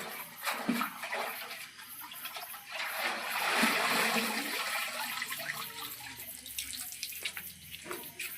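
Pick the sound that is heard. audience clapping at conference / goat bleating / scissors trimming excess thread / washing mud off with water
washing mud off with water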